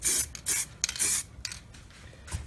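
A nearly empty aerosol tin sprays matte black paint over a weld on a Gwyn Lewis HD diff pan, giving several short, loud, hissing bursts separated by brief pauses.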